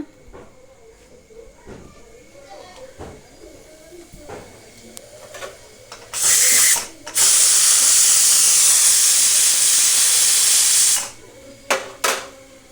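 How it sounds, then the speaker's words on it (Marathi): Cauliflower frying in oil in a pan gives a loud, steady hiss that bursts up mid-way and holds for several seconds, with quieter clatter and scraping before and after. "थोडंसं गोबीला वापरून घेऊया थोडंसं तेल घालून पाच मिनटासाठी वापरून घेऊया"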